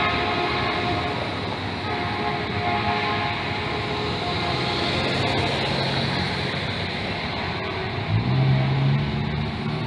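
A passing train sounds its horn in the Bay Area, a loud sustained blare over the steady rumble of the cars rolling by close at hand, with no talk.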